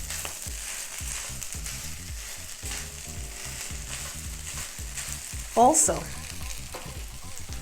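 Seafood fried rice with king crab, lobster and shrimp gets chopped egg mixed in, frying with a steady sizzle under rhythmic spatula scrapes and tosses in the pan, plus a brief louder clatter near the end; one short spoken word.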